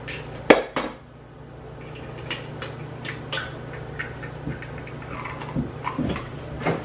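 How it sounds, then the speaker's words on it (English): Two eggs cracked into a mixing bowl, a pair of sharp knocks on the rim near the start followed by quieter clinks and small scraping sounds of shell and bowl, close and clear. "we're gonna crack the 2 eggs into this bowl right here"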